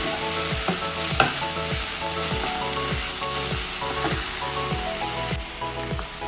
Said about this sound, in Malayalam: എല്ലാം ഇളക്കി എല്ലാം കൂടി യോജിച്ചതിന് ശേഷം ഇത് മൂടി വയ്ക്കും